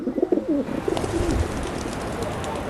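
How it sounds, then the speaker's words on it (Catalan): Pigeons coo close by in a low throaty rolling call that repeats over steady outdoor background noise. "de cop us comencen a molestar molt els coloms"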